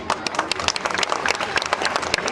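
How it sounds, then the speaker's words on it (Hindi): An audience at a community gathering in Gwalior bursts into dense, loud applause with many hands clapping at once, a continuous crackle of claps filling the hall. "पुरुषों से तालियां कम बज रही है, तालियां बजाओ महिलाओं के लिए"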